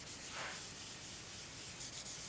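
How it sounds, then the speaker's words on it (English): Dry sanding a guitar's finish with P800 sandpaper makes a steady, soft, close-up rubbing hiss that continues unbroken for a couple of seconds, with no voices. "Since I'm dry sanding,"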